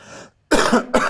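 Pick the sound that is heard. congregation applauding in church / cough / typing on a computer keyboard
cough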